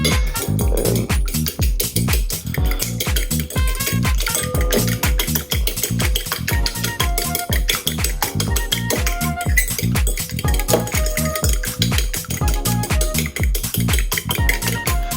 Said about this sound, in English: Now it's time to whisk it for a biscuit.